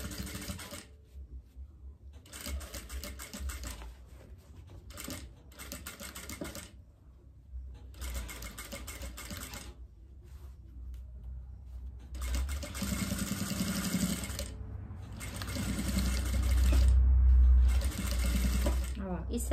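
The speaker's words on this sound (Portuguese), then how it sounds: "E segue costurando." A sewing machine stitches along the edge of a fabric diaper bag in bursts of steady whirring, pausing and restarting several times, with brief talk between runs and a louder run near the end.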